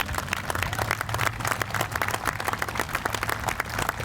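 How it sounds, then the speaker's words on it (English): Crowd applause at an outdoor opening ceremony honoring a police motorcycle unit, steady dense clapping with individual claps audible throughout, no talk over it. "so a big round of applause for those guys as well"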